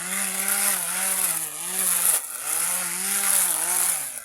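A modified grass cutter engine drones loud and near, revving in waves as it cuts, with a short dip before picking back up, no voices.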